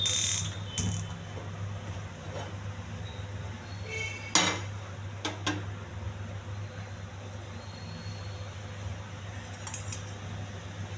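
A metal pan for pesarattu set on a lit gas stove, with sharp clinks and clatters of cookware and utensils over a steady low hum, close and without talk.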